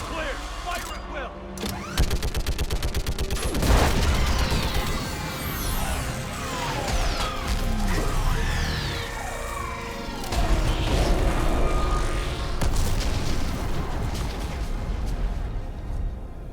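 A Mass Effect battle on Rannoch against a live Reaper: dense, continuous gunfire, booming blasts and sweeping sci-fi energy tones. Voices talk over the loud, layered combat noise.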